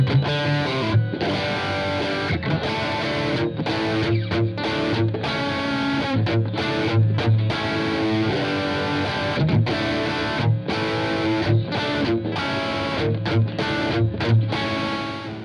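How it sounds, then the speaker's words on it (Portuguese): Single-coil electric guitar played through a distortion pedal into a Fender Blues Junior amplifier set clean with little reverb, a steady run of loud, driven chords and riffs with brief rhythmic stops, no talking. "vocês viram que ele responde bem no single coil com o pedal"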